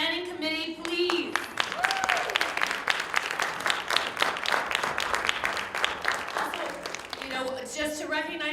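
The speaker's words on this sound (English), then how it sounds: "Can we have a round of applause for this year's planning committee, please?" An audience at a closing ceremony breaks into dense, sustained applause that carries on for several seconds, with some scattered cheers and voices mixed in.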